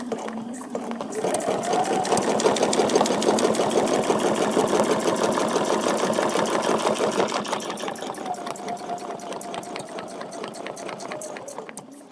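Sewing machine quilting a feather plume along an etched template line, a loud, steady, close whirring hum that runs continuously for about twelve seconds before easing off at the end.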